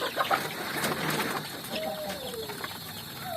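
Young farm chicks with freshly trimmed beak tips peep in scattered, faint calls against a steady background hum, with no talking.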